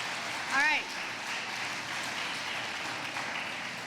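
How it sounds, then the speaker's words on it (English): An audience claps at an outdoor last-day-of-school celebration, a fairly distant wash of applause with a short whoop near the start, then continuing steadily at a modest level. "give yourself a big round of applause for that"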